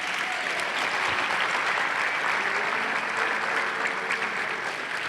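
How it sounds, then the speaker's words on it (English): Crowd applause greeting basketball player Nate Robinson at an interview event, a continuous wash of clapping at even loudness from start to finish. "please give a round of applause to Mr."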